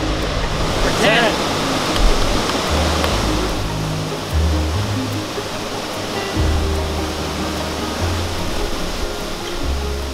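A waterfall in the Columbia River Gorge, close by the roadside, pours as a steady, loud wash of broadband rushing water with low rumble, holding constant across the stretch with no voices.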